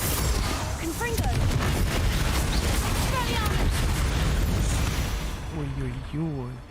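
A Confringo spell in Hogwarts Legacy bursts with a rumbling, crackling explosion that rolls on for several seconds, with creature screeches and wails mixed in before it fades out.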